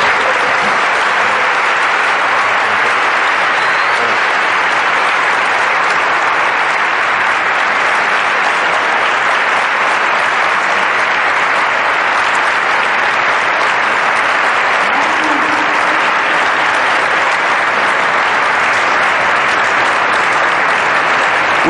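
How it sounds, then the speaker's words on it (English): Sustained, loud applause from a university lecture audience for guest speaker Sérgio Moro, a dense continuous roar of clapping with no break. "a round of applause for our guest"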